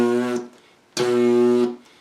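Buzzing lips imitate a car engine in a beatbox style, two sustained buzzes about a second long each with a short gap, close and loud with no talking.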